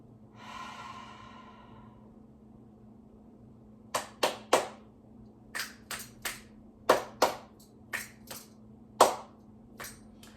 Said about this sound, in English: Those are my clap snaps to check in with my nervous system, my nerves, my system